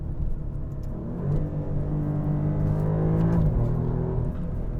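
A 2021 Alfa Romeo Giulia Quadrifoglio, modified, driven hard on back roads, heard from inside as a loud steady engine drone with rising revs and road rumble, then a brief drop in pitch near the end.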